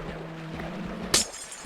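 A glass block in a video game shatters once, a bright short crash near the end over a steady low game hum, with no talking.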